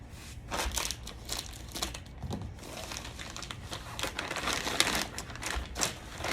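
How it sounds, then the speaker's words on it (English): Plastic sleeve being pulled off a folded track system during assembly, giving close, continuous crinkling and crackling of thin plastic with irregular rustling bursts, no talk. "And carefully remove the plastic sleeve."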